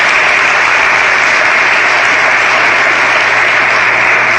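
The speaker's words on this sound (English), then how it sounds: "Let's give them a round of applause." Loud, dense audience applause at a ceremony for the Charles Young Buffalo Soldiers National Monument, a continuous close wash of many hands clapping at steady intensity throughout.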